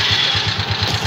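A motorcycle engine idles steadily with a low, regular pulsing rumble, close by and alone, no voices.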